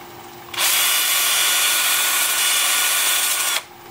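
Power drill spinning a wood-turned pear for sanding, running forward: a loud, steady whirring with a sharp start and stop, continuous for about three seconds with no talk.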